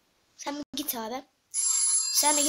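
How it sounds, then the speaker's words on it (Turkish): A brief exchange of voices, then a phone alarm starts ringing, a steady bright electronic tone that carries on to the end, heard during Minecraft gameplay. "Bir dakika arkadaşlar, alarmım çaldı."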